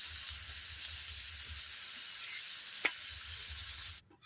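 Beaten egg in a hot kadai gives a steady, close, bright sizzle and hiss that runs evenly and then cuts off abruptly near the end.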